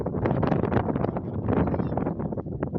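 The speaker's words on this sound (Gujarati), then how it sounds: "પવન બહુ છે" Strong wind gusting across an open field, a loud close rumble buffeting the microphone in uneven surges for a few seconds, with no talking.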